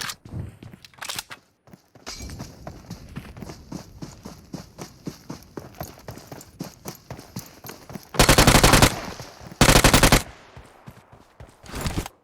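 PUBG Mobile combat: irregular single gunshots and short bursts crack close by. Midway come two long, loud continuous automatic-fire volleys, with quieter thuds between them.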